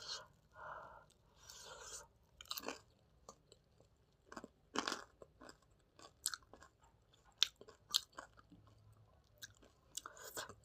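Close, quiet crunching and chewing of hot fried pakora, with irregular bites, crisp snaps and soft mouth sounds scattered over about ten seconds, no talking.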